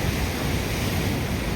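Sea waves wash ashore near Vettukad church beach, a loud continuous rushing surf with wind buffeting the microphone.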